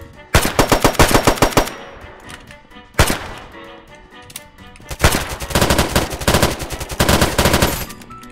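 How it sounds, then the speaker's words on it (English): Loud automatic gunfire rattles in a video game firefight, coming in rapid bursts with short pauses between them, then a sustained volley near the end. "He's shooting at me."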